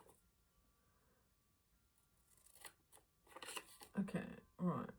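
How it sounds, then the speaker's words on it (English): Scissors snipping through a small piece of craft material during a miniature flower-room book nook build, a few crisp close cuts in the last two seconds after quiet handling. "Just cut it with my scissors."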